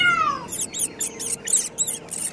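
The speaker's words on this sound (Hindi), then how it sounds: "तभी अचानक एक बिल्ली उसके पीछे पड़ जाती है।" A cat's falling meow gives way to a quick run of about six sharp, high mouse squeaks, close and clear with no one talking, as the cat chases the mouse.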